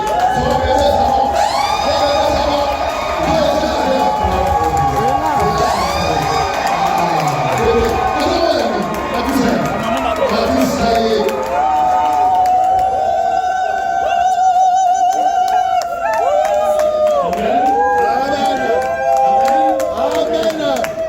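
An audience at a science café gathering cheers and acclaims a professor: a loud, sustained crowd roar with whoops and shouts that runs unbroken throughout, with raised voices mixed in.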